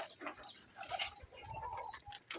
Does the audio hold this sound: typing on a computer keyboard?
no